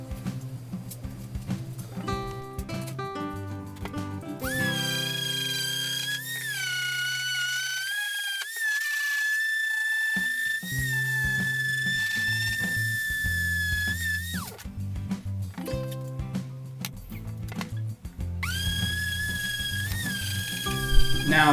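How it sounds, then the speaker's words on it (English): A power sander whines and drones on plywood in long, loud bursts, its pitch steady while working, with brief pauses and clattering between runs. "Now more sanding to be done,"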